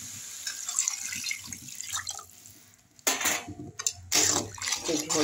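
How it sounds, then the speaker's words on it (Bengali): Water poured into a pan of cooked gourd greens for a thin vegetarian curry, a rushing splash starting abruptly partway through, then pausing and resuming, louder than the earlier faint kitchen clatter. "এখন আমি জল দিয়ে দেবো,"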